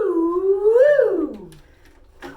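A voice imitates a swinging yo-yo with a smooth, rising-and-falling hooting glide, loud and close, trailing off into a couple of faint clicks.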